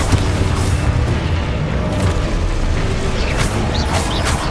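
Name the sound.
Expulso explosion spell blast from Hogwarts Legacy video game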